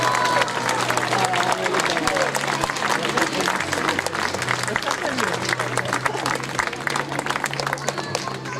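An outdoor crowd at a Venetian costume parade in Chanaz claps loudly and continuously as a costumed participant is introduced, with voices and a low hum of music under the applause.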